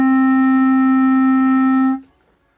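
One sustained D on a clarinet, fingered with two fingers and the thumb, rings steadily for nearly two seconds and stops cleanly, with no voice over it.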